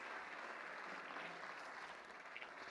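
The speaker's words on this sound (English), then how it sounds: "Let's give them a round of applause." Applause from a live-show audience at a local business event, a steady dense wash of clapping holding through the whole stretch at a fairly distant, moderate level.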